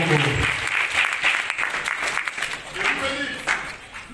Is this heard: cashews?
no